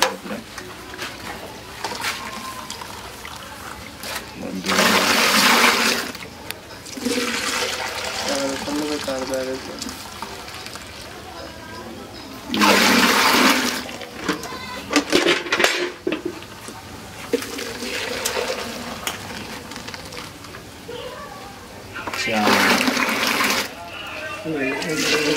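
Fresh milk poured from a bucket on a dairy farm comes in several splashing, gushing bursts amid clanking containers and steady background noise, with people talking throughout.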